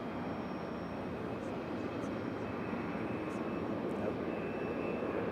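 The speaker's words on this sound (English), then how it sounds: "Should be a good departure from our 717." A Boeing 717 jet departs Raleigh-Durham airport bound for Detroit, its engines a steady, loud broadband roar throughout, with a brief spoken word over the top.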